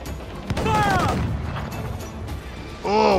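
Pirate ship cannon fire in a game, heavy booming blasts with rumbling low ends and whistling projectile tones, several shots close together and loud, with brief voices mixed in.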